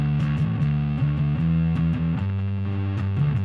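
Fuzzy, distorted bass guitar notes through a Rude Tech 3Muf-14 fuzz pedal, played in a steady, thick line, gritty and sustained throughout.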